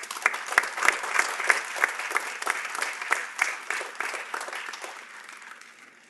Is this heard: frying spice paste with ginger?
no